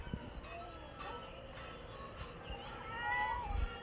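A hungry house cat meows for food near a kitchen, giving faint, soft mewing calls, with the clearest one near the end, over quiet indoor background noise.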